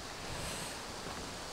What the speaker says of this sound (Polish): Troszeczkę pogoda się zmieniła, bo wiatr się nasilił